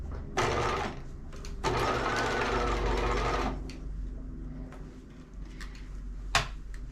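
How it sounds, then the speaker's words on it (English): A sewing machine stitches around the top of a small Barbie doll garment, running in two long bursts of quick mechanical whirring. Shorter stitching pulses and clicks fill the pauses between them, close up and clear, with no talking. "as you sew around the top"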